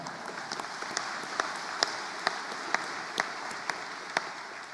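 An audience applauds at a graduation ceremony, a steady wash of many hands with sharper individual claps popping out at a regular pace, sustained and moderately loud throughout.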